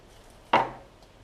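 A single sharp cut through a piece of modelling clay, probably made with a knife against a hard surface. The short, crisp impact fades quickly in a quiet room, with no voices.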